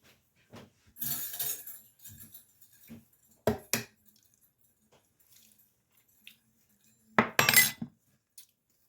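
Metal spoon clinking and scraping against a glass bowl of lemon garlic aioli, several bright clinks in short bursts separated by quiet gaps, close and clear.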